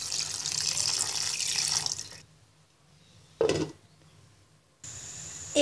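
Water is poured from close by onto koi fish cooking with flat beans and potato, a splashing stream that stops, bursts briefly, then runs again.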